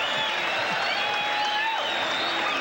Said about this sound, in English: What a round, and the crowd loves it.